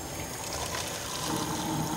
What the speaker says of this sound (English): we grab essentially hot water from our hot water dispenser